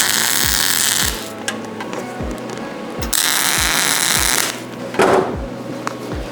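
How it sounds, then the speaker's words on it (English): A Vulcan Omnipro 220 welder tack welding, with loud crackling bursts of arc noise lasting about a second each, separated by quieter gaps and sharp clicks. "I am just gonna tack these together and see."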